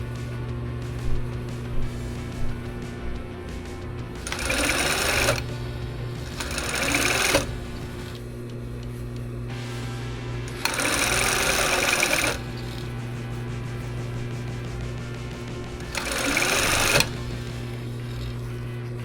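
Sewing machine stitching the leg hole hem of fabric shorts in short bursts of rapid mechanical whirring, four distinct runs separated by pauses with a low steady hum between them.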